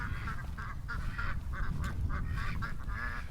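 Ducks give repeated alarm quacks, a steady run of nasal calls close by, with low background rumble and no talking.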